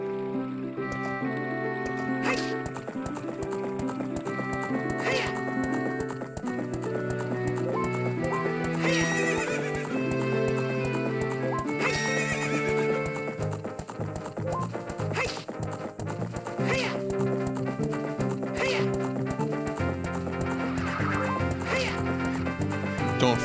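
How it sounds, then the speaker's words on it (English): A horse whinnies and hooves clip-clop in Zelda: Ocarina of Time 3D, the game's sound effects mixed under steady, loud background music throughout. "Horse."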